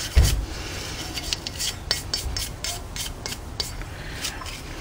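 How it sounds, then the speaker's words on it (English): Wire brush scrubbing the external surface of an AR-15 bolt during cleaning, a close, steady rasping and rubbing with light metallic scrapes repeating in short strokes, no talking. "basically just give it a good brush down"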